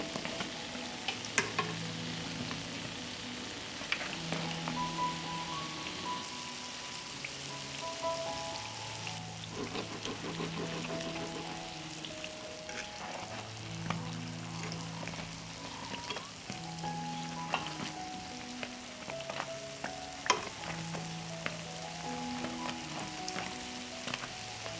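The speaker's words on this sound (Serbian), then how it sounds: "I pržimo ih 3 do 4 minuta sa obe strane, dok ne dobiju finu brown boju." Uštipci dough fritters frying in hot oil, a quiet continuous bubbling sizzle with scattered pops and crackles, heard alone without talk.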